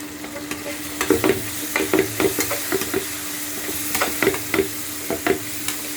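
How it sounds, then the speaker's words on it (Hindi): Potatoes and spinach with chili flakes, red chili and turmeric stirred in a pan: a steady rhythm of sharp spatula scrapes and clacks over a low sizzle, close and loud, with no talking. "और इसको थोड़ी देर मिक्स कर लूँगी"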